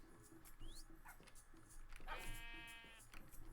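Sheep in the Minecraft video game give a few wavering bleats, one longer and clearer midway, over quiet game background sounds with no talk.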